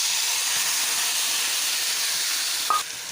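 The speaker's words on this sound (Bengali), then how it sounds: "এখন আমি এই যে কড়াইয়ের মধ্যে তেল দিয়ে দিয়েছি এটার মধ্যে আমি একে আস্তে করে এটাকে ছেড়ে দেবো" Batter of small fish slipped into hot oil in a wok, giving a loud, steady, close sizzle that holds throughout, with a brief clink near the end.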